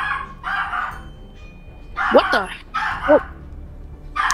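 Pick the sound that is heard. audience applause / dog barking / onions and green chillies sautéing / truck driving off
dog barking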